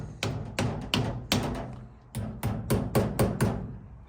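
Repeated hammer strikes on metal while tightening parts on a 1952 Dodge Wayfarer, about a dozen firm taps in uneven rhythm, close and fairly loud, with a short pause midway.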